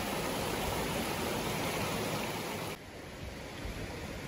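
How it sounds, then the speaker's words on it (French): Steady broadband rush of a crystal-clear mountain stream flowing through woodland, loud and continuous, with a slight drop in level near the end and no voices. "Puis c'est un ruisseau qui part dans les montagnes."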